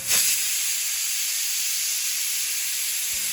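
A pressure cooker of moringa leaf dal lets off steam in one loud, continuous, close hiss that cuts off sharply at the end, with no talk.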